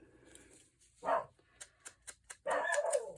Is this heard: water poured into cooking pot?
no